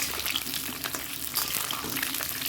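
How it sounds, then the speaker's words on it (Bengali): Potato pieces fry in oil with cumin seeds and bay leaves, making a steady close sizzle and crackle with occasional stirring scrapes, continuous and even throughout. "এখানে জিরে তেজপাতা সব দিয়ে দিলাম দিয়ে এই আলুটা ভাজছি"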